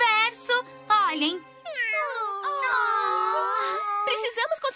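A cartoon desert cat in a Polly Pocket episode gives long, wavering, high-pitched meows that rise and fall, clear and close, with a child-like voice mixed in.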